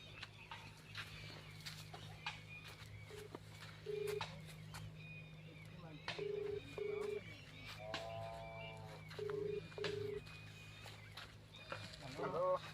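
Faint short electronic beeps sound in pairs as keys are pressed on a telephone to dial, over a low hum with some background voices.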